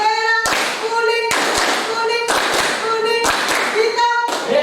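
Group hand clapping in a classroom comes in rhythmic bursts of sharp claps, repeated several times, with voices chanting or singing in between.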